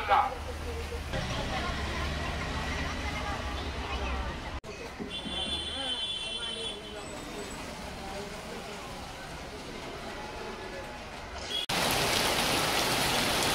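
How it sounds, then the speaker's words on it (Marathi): Steady rain falls in Mumbai, a continuous broadband hiss that lasts the whole stretch, with people talking nearby and a brief louder burst near the end. "तर पाऊस चालू आहे इथे."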